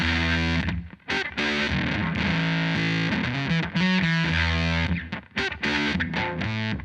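Electric guitar driven through an octave fuzz stacked with overdrive pedals, playing thick, saturated chords and riffs with brief gaps, loud and steady with no talking.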